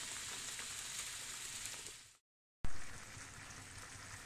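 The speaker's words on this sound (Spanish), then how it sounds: "dar la oportunidad a que se empiezan a freír en el" Refried beans fry in a little oil in a pan, a bright, steady crackling sizzle that drops out briefly to silence and then resumes at full strength.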